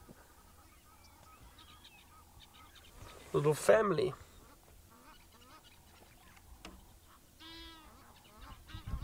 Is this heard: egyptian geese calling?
yes